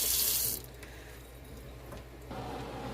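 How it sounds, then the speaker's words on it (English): Hot water from a kitchen tap splashes briefly into a container with a bright hiss, then stops, leaving low room noise before a softer flow resumes near the end. "Now I'm going to fill the rest up with that water, hot water."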